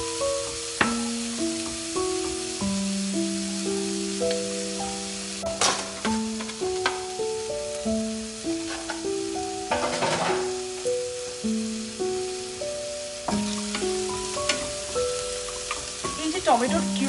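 Ground chilli, cumin, coriander and tomato purée sizzle steadily in a pan over low heat for Indian home cooking, with repeated scraping stirs throughout and a tonal music bed playing underneath.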